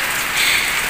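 A rainy-season morning shower falls on garden plants in Baganga, Davao Oriental, Mindanao, making a close, continuous hiss of raindrops that swells slightly midway.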